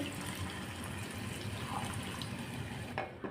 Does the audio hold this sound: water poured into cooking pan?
yes